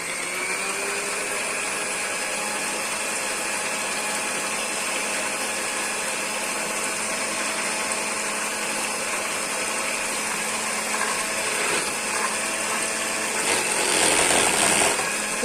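An electric hand mixer beats four eggs with a spoonful of vinegar and a touch of vanilla, a steady, close, continuous motor whir running unbroken throughout, rising slightly near the end.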